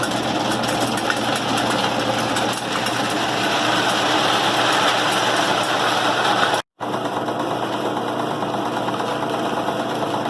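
A grain cleaner runs steadily while cleaning field corn, screening out fines, sticks and cob pieces. It gives a continuous close, loud mechanical drone with a rattling hum and one very brief dropout near the end.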